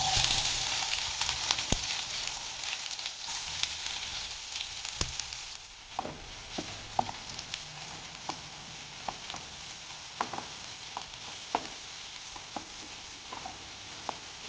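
Chopped onions frying in a pan for spicy anda keema, a steady sizzle running throughout with scattered crackles and occasional faint clinks, moderately close and with no voices.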